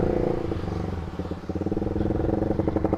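A stock Honda CBR150R motorcycle with a remapped ECU holds around 3000 rpm on a helicopter-style rev limiter, the engine note chopping into a fast, regular stuttering pulse that grows more pronounced toward the end, loud and close.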